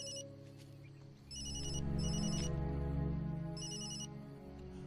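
A telephone rings in repeated bursts of bright electronic trills over a steady low hum, fairly close.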